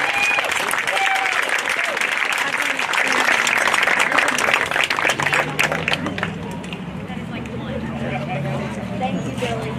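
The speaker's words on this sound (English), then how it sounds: "Y'all give all these athletes a round of applause" An audience at a Heber Springs Panther sports event applauds its athletes, with steady clapping for about six seconds that then thins into crowd murmur and a low voice talking.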